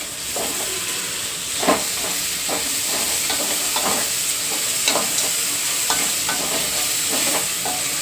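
Thinly sliced lengthwise tomatoes sizzle steadily with spices in a frying pan for pilaf, with repeated utensil stirs and scrapes cutting through the constant hiss; no talking.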